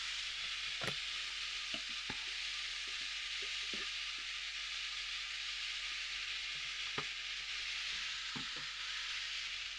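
Carrots fry in oil in a pan for a pickle-soup base, a constant close sizzle and hiss with occasional light knocks and scrapes of stirring.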